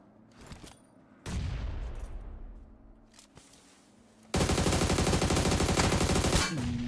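Heavy video game gunfire during a competitive team scrim match: a short burst, a sustained volley, then a long loud rapid automatic barrage close up, with no talking.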